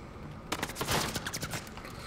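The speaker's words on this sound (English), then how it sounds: "I hate when they start shooting right off the bat." Gunfire in a Call of Duty Modern Warfare Search and Destroy match, a short spread of quick rattling shots and impacts starting after a brief pause, moderately loud over steady game ambience.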